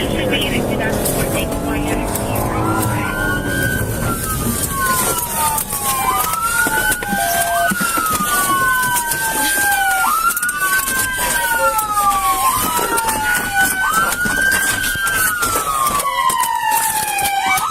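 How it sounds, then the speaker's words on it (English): A police car siren wails in repeated rising and falling sweeps, loud and close, as voices talk over it and a vehicle engine hums beneath. "turn off your siren."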